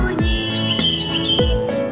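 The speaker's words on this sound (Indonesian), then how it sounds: "Kutilang berbunyi." A sooty-headed bulbul sings in a treetop at Scientia Square Park, sharp bright chirps and whistled notes repeating in a quick rhythm, close and clear, with no voices.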